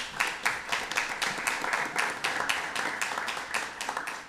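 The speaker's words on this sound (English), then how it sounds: "Please give her a round of applause." An audience at a State Board of Education meeting claps for an honoree, a sustained patter of many hands with gently rising and falling intensity.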